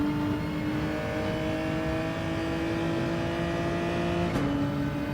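Race car engines in Gran Turismo 7, including a Genesis G70, hold a steady loud whine as the cars accelerate together, with a brief pitch shift near the end.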